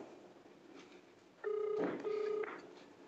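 A telephone tone sounds after a call is cut off, two short steady beeps in a row on the line, close and clear over faint background hiss.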